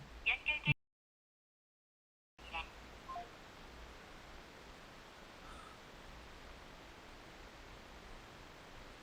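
A phone dials out, with a quick burst of three loud keypad tones, a moment of silence, then a couple more tones before a long stretch of faint hissing line noise.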